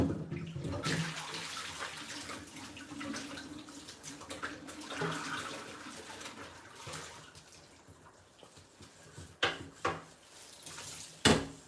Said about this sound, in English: I'm washing the pot